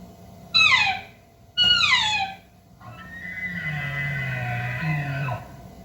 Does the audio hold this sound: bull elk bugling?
yes